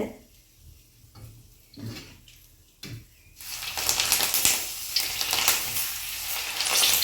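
Moong dal vadas (pesara vadalu) frying in hot oil, a steady loud sizzle building up over the second half after a few soft bumps and clatters.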